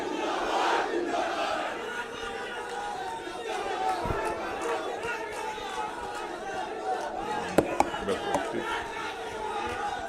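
Crowd at a political rally in the Lucknow constituency chanting slogans in unison for Rajnath Singh, a loud sustained mass of voices with rhythmic shouted bursts and chatter, near and dense throughout.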